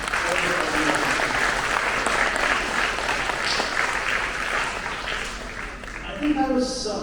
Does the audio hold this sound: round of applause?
yes